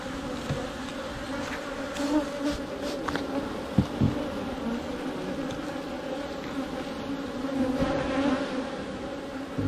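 Honey bees at an open top bar hive give a steady, dense buzzing close by, with a few louder passing buzzes as single bees fly near, and no talking.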